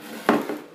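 A single egg cracked against an edge away from the mixing bowl while making Nutella-filled cookies, giving one sharp, close knock followed by a softer secondary crack.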